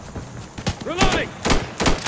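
Gunfire in the tactical shooter Insurgency during urban building-to-building combat near a river: a few sharp, loud bursts of shots spaced across the moment, with a voice speaking in between.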